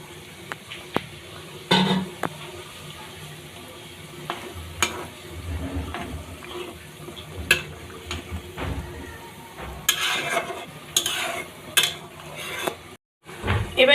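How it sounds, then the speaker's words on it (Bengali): Fish going into boiling tomato broth in a pan, heard as a steady low simmer and bubbling with scattered clinks and soft stirring knocks throughout, no voices. "ঝোল ফুটে গেছে, এবার দিয়ে দিচ্ছি মাছগুলো।"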